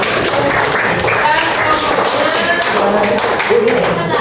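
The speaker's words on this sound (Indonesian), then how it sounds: "Tepuk tangan dulu buat kelompoknya." Applause from a class of students for a group in an anthropology lesson, a steady dense patter of clapping that fills the whole stretch at even loudness, with voices mixed in underneath.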